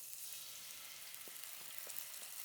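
Soy sauce mixture hits a hot pan of garlic, raising a steady, close hiss of frying with a few soft wet pops and stirring scrapes throughout, no voices.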